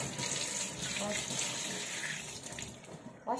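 Apples are washed under a running kitchen tap while making apple juice. The water flows steadily and evenly with a soft splashing, heard fairly quietly and close by.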